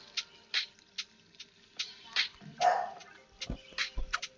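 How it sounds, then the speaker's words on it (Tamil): Dog barks sound in a Roblox fish store tycoon game, short repeated yips spread evenly across the stretch, fairly faint and thin, with no talking over them. "நாய் வேறு கத்திக்கிட்டே இருக்கு"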